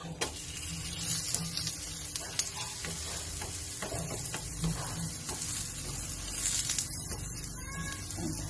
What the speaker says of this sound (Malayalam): ആ വശം നല്ലോണം വെന്ത് നമുക്ക് തിരിച്ച് വെച്ചെടുക്കാം